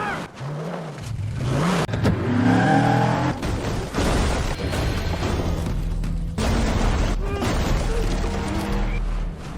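A car revs and accelerates hard during an action scene in a doomsday survival drama, the engine roaring loud and close with a tire squeal and skid, rising in bursts.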